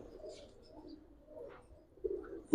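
Giribaz pigeons in a loft give soft, low coos in a few faint, drawn-out phrases, with a brief louder knock at the very end.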